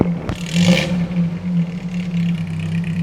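A modified boxy Suzuki Karimun with a custom header and cloth air filter revs, its engine rising in a short burst and then holding a steady, loud mid-pitched hum with a slight rattle.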